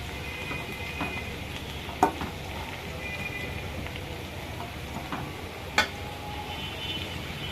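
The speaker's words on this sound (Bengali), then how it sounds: "পাট শাক রান্না করছে।" Jute leaves (pat shak) cooking in a pan at home, with a steady soft sizzle under continuous stirring and two sharp spatula clacks against the pot.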